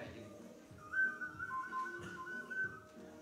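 A small toy whistle is blown at a school concert, giving a thin sustained tone that wavers over about two seconds, fairly faint amid soft room noise and murmuring voices.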